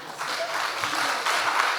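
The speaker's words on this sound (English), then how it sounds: "So a big round of applause for that group." Audience applause rings out for a breakout group at a conference session, a dense, continuous patter of many hands clapping at close range for about two seconds.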